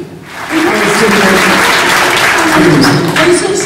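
An audience at an awards ceremony breaks into steady, loud applause, the clapping swelling quickly after a quiet start and holding strong with a murmur of voices underneath.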